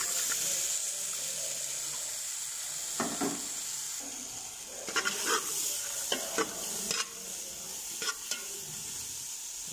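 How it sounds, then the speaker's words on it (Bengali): Vegetables sizzle and fry in a pan during makrana preparation with eggs, a steady hiss carrying throughout while a utensil scrapes and clinks against the pan in irregular bursts. "বন্ধুরা, এখন এইগুলা একটু ফ্রাই করার পর এখন আমি আমার সবজিগুলো দিয়ে দেব।"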